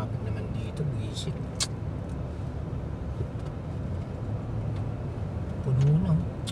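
Inside a car on a road trip in heavy traffic, a low steady engine and road rumble with faint passing vehicle sounds, people chatting over it and a brief louder hum near the end.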